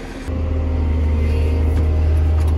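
A farm tractor engine drones loudly at a steady low rumble, starting up at a fairly constant idle-like pace and holding on without pause while the tractor heads out to spray a field.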